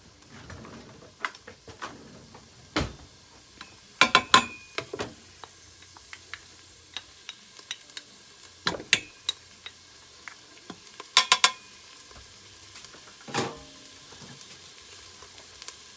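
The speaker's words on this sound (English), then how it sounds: "And then I am going to add in my garlic and my ginger paste." Garlic and ginger paste frying in a pan makes a faint, low crackling sizzle with scattered ticks and pops, and a few louder clinks and taps of a utensil.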